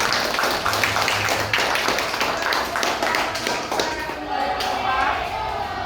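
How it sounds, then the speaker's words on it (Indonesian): A room full of people clapping steadily, dense and continuous, with some voices mixed in underneath. "Oke, tepuk tangan dulu."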